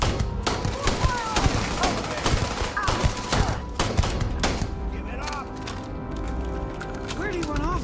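Gunfire and ship shooting in the space game Starfield, a busy run of loud shots and impacts with weapon whines and sweeping tones, while voices talk over the fight.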